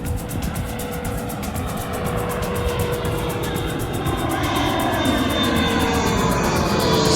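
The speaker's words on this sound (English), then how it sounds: "CRJ 900 of American Eagle." An American Eagle CRJ 900 jet roars steadily on approach to Reagan National in Washington DC, heard from directly beneath the flight path at night, its engine noise loud and building over the seconds with no talk.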